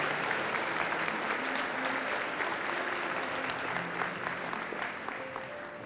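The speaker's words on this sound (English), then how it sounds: "Again, one big round of applause for all of our veterans here today." A school audience applauds veterans at a Veterans Day ceremony, a steady, dense round of clapping from many hands that holds evenly for several seconds before easing slightly at the end.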